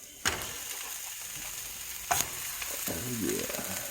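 Maple sausages frying in a hot pan on a stovetop, giving a steady, fairly loud sizzle with two sharp clacks of a utensil against the pan.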